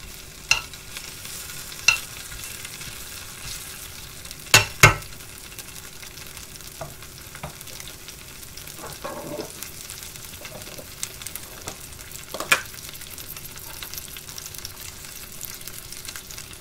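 Garlic prawns going into a hot, bubbling pan, giving a steady quiet sizzle with a few sharp clatters and stirring knocks scattered throughout, no voices.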